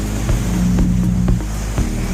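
Majesty 62 yacht at full speed during a sea trial, with a steady loud engine drone, low harmonic hum and rushing water and wind noise throughout, plus occasional brief knocks.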